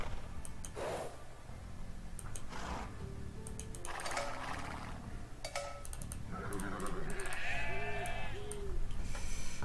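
Sheep bleat in the Age of Empires 2 strategy game, a few wavering calls near the end over light ticking interface clicks and soft game ambience.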